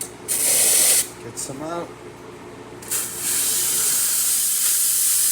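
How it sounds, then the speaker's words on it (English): An Alex Duetto espresso machine's steam wand purges after a full tune-up, giving loud, close bursts of hissing steam that stop and restart, ending in a long sustained blast, with a brief spoken comment in between. "Let's check the steam. We'll purge it."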